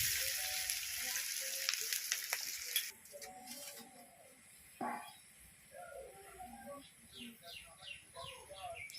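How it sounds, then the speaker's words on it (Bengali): Onions frying in oil while stirred, a loud hissing sizzle at first that drops to a quieter crackle, with scraping stirs and a voice talking over it. "পেঁয়াজ দিয়ে দিলাম, তেলের মধ্যে দিয়ে খুব সুন্দর করে নেড়ে চেড়ে ভেজে নেব।"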